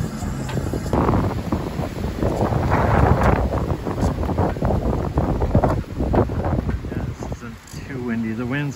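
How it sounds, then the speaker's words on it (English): Gusty wind blows across the microphone on a windy day near a vertical-axis wind turbine, a loud rushing roar that swells and eases, while a person talks over it. "finally getting some wind."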